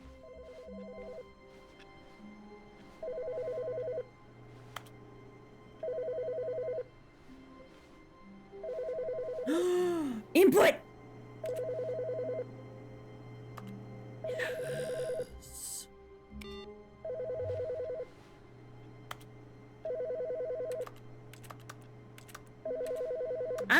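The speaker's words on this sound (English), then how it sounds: "There's a phone ringing." An office desk phone rings in The Stanley Parable, a steady repeating electronic trill in regular bursts about every two to three seconds, with a short exclamation, keyboard clatter and thumps in between.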